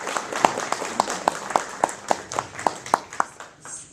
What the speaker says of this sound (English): So let's give a round of applause for all of those fighters.